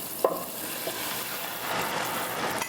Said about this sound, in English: I'm just going to whisk the cream and the butter